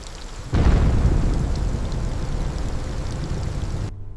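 A heavy storm surges in suddenly, dense hissing rain with deep rumbling thunder filling the scene, steady and loud for several seconds before cutting off abruptly.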